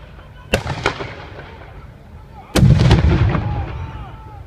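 Mortars fired during an army firepower demonstration at an outdoor show. Sharp booming reports land in two clusters, each followed by a long rolling echo across open ground, loud and close.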